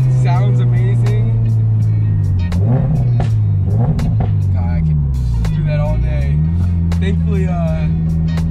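A modified Toyota GR86 revs and accelerates loudly from inside the cabin, its engine note rising and falling through several gear pulls, with a voice talking over the drone.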